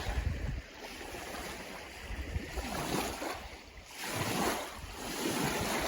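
Wind-driven chop slapping on Crawford Pond, a large pond along the Appalachian Trail, heard as steady broadband wash with gusting wind noise and soft surges of waves, no talking.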